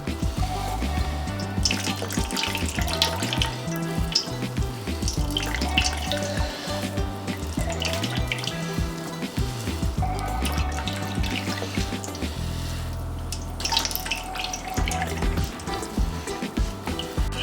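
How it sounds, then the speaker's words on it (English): Juice from grated cassava squeezed out of a bag, with wet trickling and splashing into a bowl in uneven pulses, close and fairly quiet, no talking. "You want to get most of the juice out."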